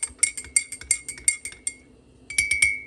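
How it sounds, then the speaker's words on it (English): A spoon clinks repeatedly against a cup of green tea while stirring, in quick, bright, regular taps. After a short pause comes a second burst of clinks. "stir this up a little bit"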